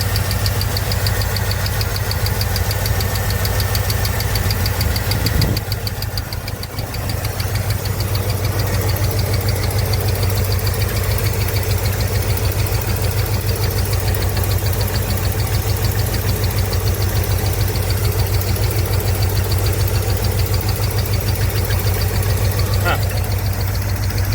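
A Kia K5 engine with a loose fan pulley runs steadily with a low, knocking drone throughout, and voices talk over it in places.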